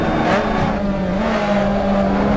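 Mazda MX-5 race car in the Assetto Corsa racing game, its engine holding a steady, loud in-car drone throughout with a slight pitch rise toward the end, no voices over it.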